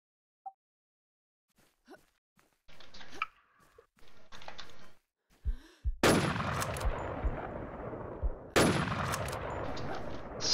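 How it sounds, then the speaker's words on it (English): M16 gunfire in a video game rings out in two loud, sharp bursts of rapid automatic shots, each trailing off, after scattered quieter sounds and a short stretch of voices. "M16 was shooting here."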